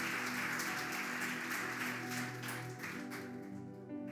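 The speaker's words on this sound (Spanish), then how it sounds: "Vamos a regalarle un fuerte aplauso a Dios" A church audience applauds in a faint, dense patter of many hands, with soft music tones sustained underneath and the clapping thinning toward the end.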